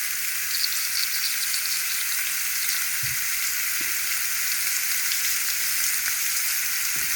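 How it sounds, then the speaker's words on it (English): Steaks fry in a hot pan with a strong, even crackling sizzle that holds steady throughout, heard up close with a couple of faint low bumps and no voices. "Listen to that sizzle."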